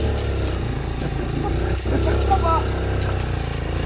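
Motorcycle engine running steadily close by, a continuous low rumble with a brief dip partway through, as people talk over it in Tagalog.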